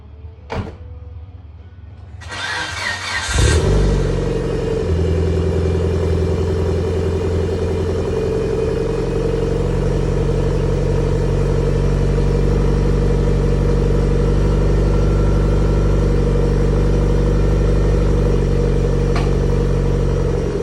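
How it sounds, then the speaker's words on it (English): A Mitsubishi Lancer Evolution 8 cold-starts after a brief crank, then settles into a loud, steady, rumbling idle that holds for the rest of the clip with no talk. "So I will get a cold start on the Evo since I'm gonna back it out to get the bumper off"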